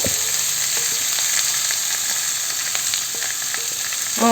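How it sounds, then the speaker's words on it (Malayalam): Carrot thoran mixture fries in a pan with a loud, continuous hiss and crackle, punctuated by light stirring taps, and a sharper burst of sizzling right at the end. "ഇനി ഇതിലേക്ക് നമ്മൾ തയ്യാറാക്കി വെച്ചിരിക്കുന്ന ഈ ക്യാരറ്റിൻ്റെ കൂട്ടിനെ ചേർത്ത് കൊടുക്കാം"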